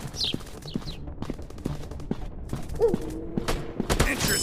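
A 3D first-person shooter game produces sharp, scattered gunshots among clattering game effects, with irregular single cracks and a few clustered bursts, close and fairly loud throughout.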